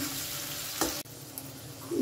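Carrots and peas fry in oil in a pan, a soft steady sizzle with a brief stirring scrape, quiet and close.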